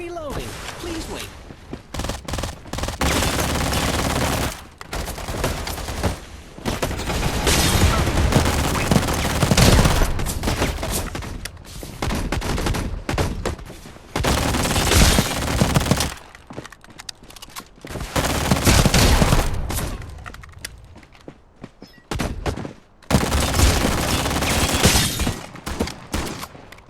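Bursts of heavy shotgun fire in a shooter video game come in repeated volleys separated by brief pauses, loud and punchy, with an in-game voice briefly heard among the shots.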